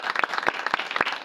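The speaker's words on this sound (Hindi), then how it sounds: "तालियां बज सकती हैं।" Brief burst of audience applause at a Christmas sermon, a crowd clapping in quick scattered claps for just over a second.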